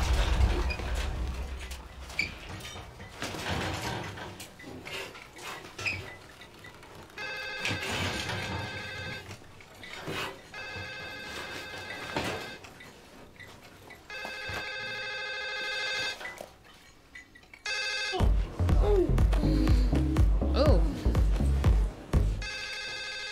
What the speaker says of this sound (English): Oh, that's the guy's phone.